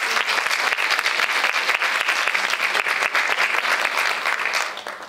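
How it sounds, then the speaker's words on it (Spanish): An audience at an International Day of Women and Girls in Science event in 2019 bursts into sustained, dense applause, many hands clapping steadily and loudly before fading away at the end. "aplauso para ustedes"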